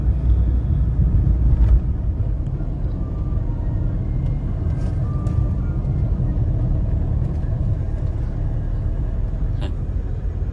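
A car rolls slowly in second gear over a rough, uneven road, giving off a steady low engine rumble and road noise with occasional faint knocks from the bumps.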